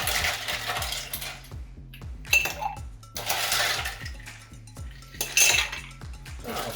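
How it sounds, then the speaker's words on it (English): Ice cubes go into a metal cocktail shaker in several bursts of rattling clinks and clatter. Quieter pauses fall between the scoops, with no speech over them. "I'll fill the shaker about halfway up with ice or so."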